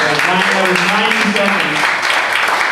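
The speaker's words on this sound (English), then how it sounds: "Well, give a round of applause." Applause from an audience at a VREN event in Pleasanton fills the whole stretch as a steady, close wash of clapping, with a voice speaking over it early on.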